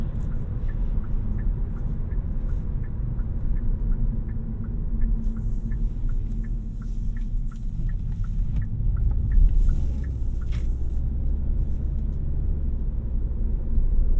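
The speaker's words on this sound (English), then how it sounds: "Now this is the loudest road I know in my area, and I'll kind of be quiet here and let you guys listen to how the road is at highway speeds." Steady low road roar fills the cabin of a 2023 Kia K5 GT-Line sedan cruising at highway speed on a coarse, loud road surface, a continuous deep rumble with faint ticking and no talk.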